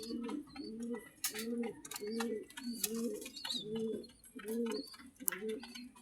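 Rescued pigeons coo in a steady, evenly spaced series of about eight soft, rolling calls, close by and fairly quiet, with faint outdoor chirps behind them on a rainy day.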